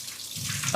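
Tap water runs briefly into a sink as a plate is rinsed in a bachelor's kitchen in Hyderabad, a soft steady splash that swells to a louder burst at the end, with a voice around it.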